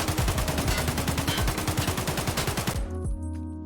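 Budget-build AK-74 rifle in Escape From Tarkov firing a rapid full-auto burst of about two dozen shots at an even rhythm, loud and close, then cutting off with a short ringing tail.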